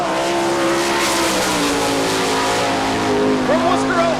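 World of Outlaws sprint car racing at Rossburg, Ohio, including the Weld Racing number 22: a loud, sustained engine roar whose pitch rises and falls through the lap, with a track announcer's voice over it.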